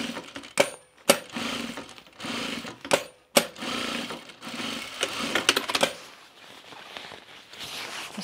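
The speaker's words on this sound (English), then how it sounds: "trying to sew a little faster now too so we can get through this." Sewing machine stitching a bomber jacket, a continuous close whirring hum broken by short stops and sharp clicks as the fabric is repositioned, fading toward the end.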